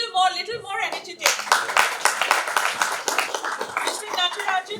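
Dense audience clapping at a microfinance HR conference, loud and continuous for several seconds as the crowd applauds an introduced speaker, with a voice speaking briefly at the start.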